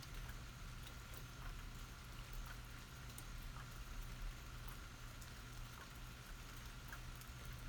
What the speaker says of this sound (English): These are some big, big raindrops.